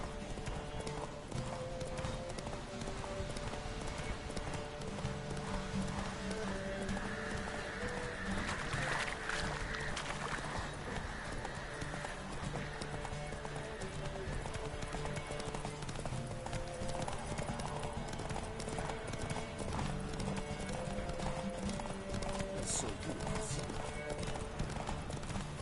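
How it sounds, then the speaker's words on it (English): Horses galloping in a race in the video game Witcher 3, steady rhythmic hoofbeats clip-clopping continuously over a droning ambient bed, with an occasional whinny, no talk. "It's nice having a bit of a horse race, isn't it?"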